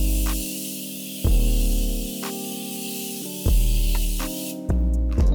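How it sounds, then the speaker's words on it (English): Morphe setting spray is misted onto a face in several short hissing bursts, with steady tonal background music underneath. "Now I'm gonna go in with my Morphe setting spray and spray my face."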